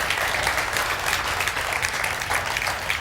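An audience clapping at a church gathering: a continuous, fairly loud patter of many hands that holds steady for a few seconds.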